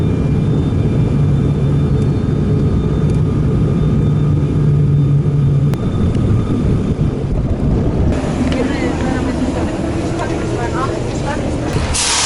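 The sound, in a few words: small passenger plane engine during flight and landing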